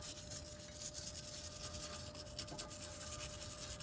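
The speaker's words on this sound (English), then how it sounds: "we're gonna take a wire brush and just kind of clean up the inside here" Wire brush scrubbing the inside of a rear wheel hub on a 2005 Toyota Corolla, a steady close gritty rasping that runs without pause.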